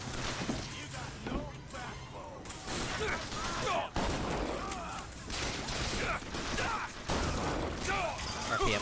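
Shotgun blasts in a first-person shooter, loud repeated shots at irregular intervals mixed with game mechanism clatter, while a person talks over much of it.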